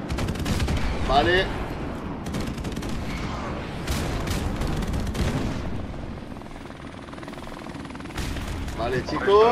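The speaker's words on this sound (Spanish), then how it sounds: "Helicóptero enemigo en camino." An enemy helicopter and gunfire in Call of Duty 4 Remastered: rotor noise under repeated bursts of automatic fire and booms, with teammates talking over the action.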